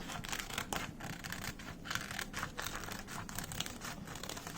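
Sackcloth being cut into a rounded shape with scissors, steady crinkling, snipping and scratchy rustle of coarse fabric running throughout at close range, with no talking.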